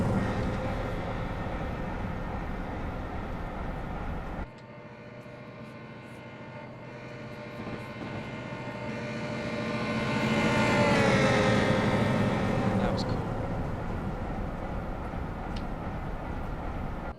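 Amtrak E8 diesel locomotive at full throttle in Train Simulator, a steady engine drone with layered hum that briefly dips, then swells louder as the train gains speed, with no one talking over it.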